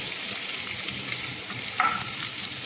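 Garlic sautéing in hot cooking oil in a pan, a steady broad sizzle with a brief louder flare near the end, no voices.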